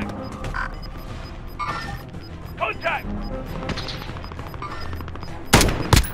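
Gunfire in a Call of Duty parody shooter, a sharp loud burst near the end over constant background game noise, with people talking throughout.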